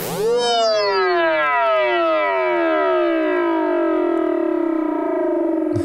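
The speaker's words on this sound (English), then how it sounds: "So we're using feedback to make a really interesting riser sound." Rising feedback-loop riser built in Ableton Live: a dense stack of harmonics sweeps upward and sustains loud and steady, siren-like and edging toward distortion, with no talking.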